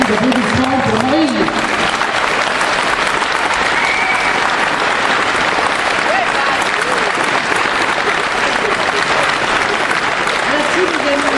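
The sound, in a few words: rally crowd applauding Marine Le Pen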